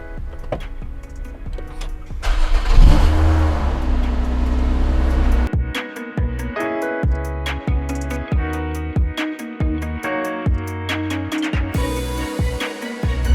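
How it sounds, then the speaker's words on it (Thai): A Lotus Emira sports car engine cranks and catches with a loud roar, then settles into a rough, rumbling idle with clicking and ticking noises on top. "เดี๋ยวเรามาสตาร์ทฟังเสียงเครื่องยนต์กันดีกว่าค่ะ"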